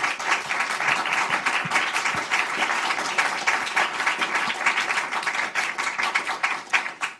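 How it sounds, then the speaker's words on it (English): A Brookings event audience claps in a sustained round of applause, dense overlapping hand claps with a steady rhythmic texture that tapers off at the end. "Please join me in a round of applause in just a moment."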